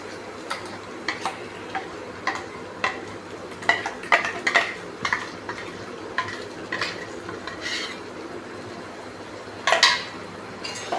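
A spoon stirs black chickpea paste into soup in a pot, giving light irregular scrapes and clinks against the metal, close and moderately quiet, with no talking.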